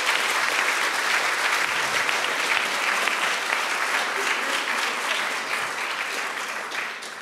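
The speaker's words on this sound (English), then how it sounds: "If everyone will please give them a round of applause." Sustained audience applause for panelists at a university Supreme Court review event, dense steady clapping from a large crowd that holds strong throughout and tapers slightly at the end.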